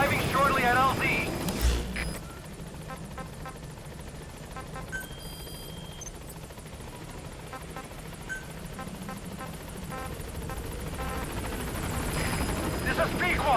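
Helicopter rotor thrum in Metal Gear Solid V as the chopper arrives at a landing zone, a continuous, fairly loud whir that swells toward the end, with radio chatter and occasional game effects over it.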